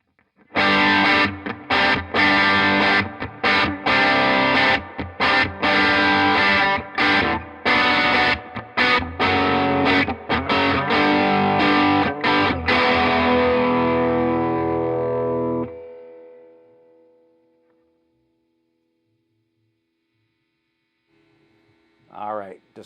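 Electric guitar played through a Harby Noble Tone distortion pedal with distortion up halfway, loud chugging chords and riffs with abrupt stops, then a long ringing fade into silence and a brief final bend.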